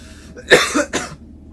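Two quick coughs close to the mic, the first harsher and the second shorter, with a quiet pause before and after.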